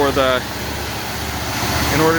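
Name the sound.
car engine idling after a cold start with choke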